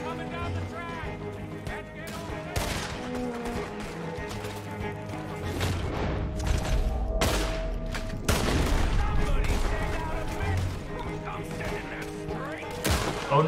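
Rapid gunfire in Red Dead Redemption 2, dense volleys of close shots crackling and booming over each other throughout, mixed with game effects and a player talking over the shooting.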